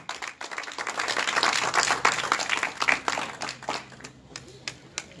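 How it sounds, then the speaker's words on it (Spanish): An audience at a community event in the Chancay district claps to welcome a guest, a burst of brisk applause that swells and then thins into scattered claps, with voices mixed in beneath. "Fuertes palmas para darle el cordial recibimiento a la señora Lilian Arellano"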